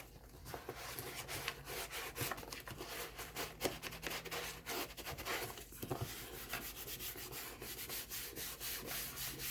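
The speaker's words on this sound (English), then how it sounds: "The more you rub your hands over it, the drier it'll get, the quicker it'll dry." Hands rub steadily over a paper book cover, giving a continuous soft, dry brushing and scraping texture with small irregular scuffs, close and fairly quiet, with no talking.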